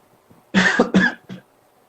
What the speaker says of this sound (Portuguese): Eu tô tossindo um pouco, desculpa aí